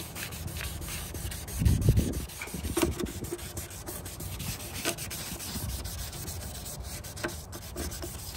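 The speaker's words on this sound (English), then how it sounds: "Keep on sanding," Car headlight lens being wet sanded by hand with 1000 grit sandpaper, a steady close rubbing and scrubbing with a louder burst of strokes early on, alone with no talk.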